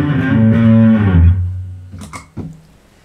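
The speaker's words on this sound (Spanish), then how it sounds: "que es ya un pedal como más boutique se le llama, y tiene la gracia de que suena como una distorsión más setentera." Electric guitar played through a boutique seventies-style distortion pedal, a loud sustained distorted chord ringing and fading, followed by a few short muted picked notes and string noise.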